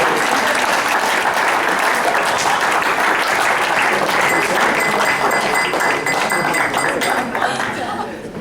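A wedding reception audience gives a sustained burst of loud, dense applause for newlyweds Mr. and Mrs. Newton. The clapping fills the room steadily and begins to thin toward the end, with voices mixed in.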